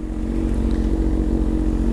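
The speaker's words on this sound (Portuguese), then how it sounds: "Toda vez que eu ando nessa moto" A Honda Hornet motorcycle with a modified exhaust pipe rumbles steadily while riding, a loud, close, low throbbing engine drone that holds an even pitch throughout.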